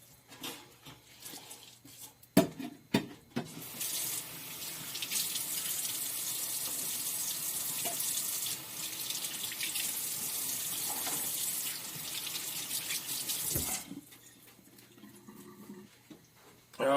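Tap water runs steadily into a can of soup ingredients, rinsing out the leftover juice for a taco soup, a continuous close hiss lasting about ten seconds, framed by brief clinks and handling sounds before and after.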